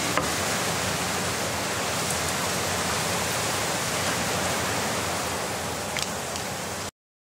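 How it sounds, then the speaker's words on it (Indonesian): An electric blender purées boiled chili sambal seasoned with a little salt, giving a steady, loud, even whir that runs for about seven seconds and then cuts off abruptly. "Kita akan blender ini sambalnya biar halus."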